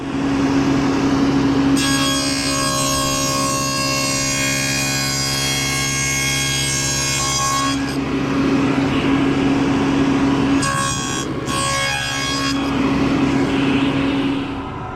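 A table saw runs steadily with a constant motor whine while a board is fed through to cut a dado, the pitch deepening under load for several seconds before easing back to idle, then a second shorter pass follows.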